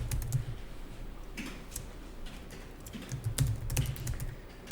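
Steady, close typing on a computer keyboard while entering sales and purchase entries into accounting software, with a continuous run of keystrokes and a few heavier key presses.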